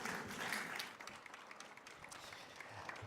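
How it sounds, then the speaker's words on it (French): Audience at a Secours Expo 2018 conference on ambulance crews in pre-hospital emergency care applauds its guests. Broadband clapping is densest in the first second, then thins and fades into scattered, quieter claps. "j'aimerais qu'on commence en applaudissant nos invités pour les remercier d'être là"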